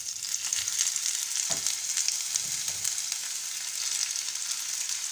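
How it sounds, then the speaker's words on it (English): Mustard seeds crackle and pop in hot oil before chopped onion is added for a vegetable vermicelli pulao, making a steady bright sizzle with a brief thud as the onion goes in, close and fairly loud, with no voices. "As mustard is popping, now I'm adding onion."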